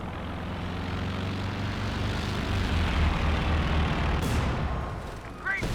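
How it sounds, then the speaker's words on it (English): Aircraft fly over a battlefield in the game Company of Heroes 2, a sustained engine drone over rumbling combat noise. The sound swells in the middle and ends with a sharp burst. "Shooting down all those Axis planes"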